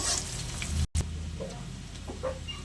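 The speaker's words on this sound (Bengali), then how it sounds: "সব কিছু একটু ভাজা ভাজা করে নেব।" Chopped onion and green chili frying in oil in a pan, a close, steady sizzle with a brief dropout and small crackles.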